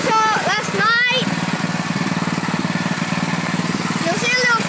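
A small engine runs at a steady, fast pulsing idle, loud and close, with a person talking over it at the start and end.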